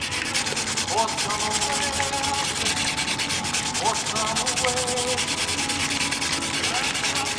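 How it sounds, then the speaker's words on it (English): Sandpaper scrubs steadily across a hard model aircraft cowl, a continuous close, loud rasping with rhythmic back-and-forth strokes and no talk. "But now that we're sanding this material is relatively hard."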